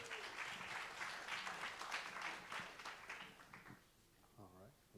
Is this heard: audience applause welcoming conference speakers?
yes